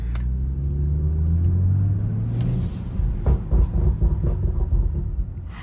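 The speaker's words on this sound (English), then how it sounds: "That overrun brop, that brop sound" BMW 335i with a Stage 2+ tune, a deep engine drone rising under acceleration, then dropping off into a string of rumbling overrun pops and burbles from the exhaust.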